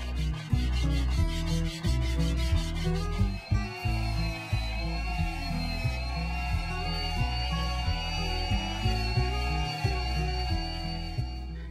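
A microplane rasp works a wooden decoy in rapid, steady rubbing strokes, loud and close, with a continuous gritty scraping texture and a faint high tone throughout.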